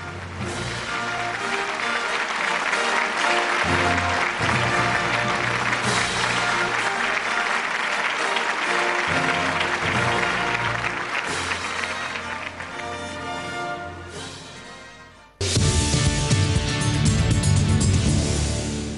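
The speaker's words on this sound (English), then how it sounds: "Big round of applause for Nishi Vasudeva" Sustained audience applause fills a hall at a business awards ceremony honouring powerful women, a dense wash of many hands that dips briefly near the end, then surges back louder.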